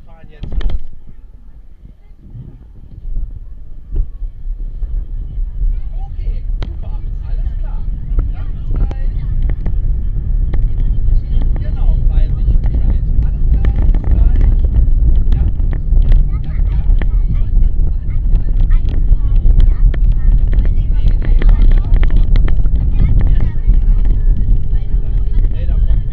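A Wuppertal Schwebebahn G15 suspension railway car sets off and rides along. After a brief quieter start, a steady low rumble builds and holds, with faint rattles, heard from inside the car.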